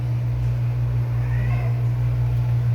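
A kitten meows once, soft and somewhat distant, over a steady low hum.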